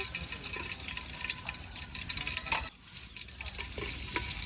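Oil and garam masala frying in a cooking pot for pulao, a dense, steady sizzle with scraping stir sounds throughout and a brief dip midway.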